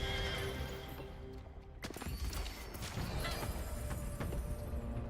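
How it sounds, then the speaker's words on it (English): Horses whinny loudly at the start in the video game Deadlock, followed by clopping hooves and clattering commotion in a busy game scene. "Nice horses."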